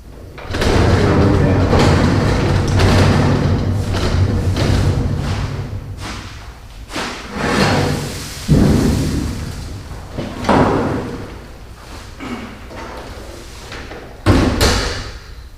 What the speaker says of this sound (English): First thing I'm going to do is lay the cabinet over.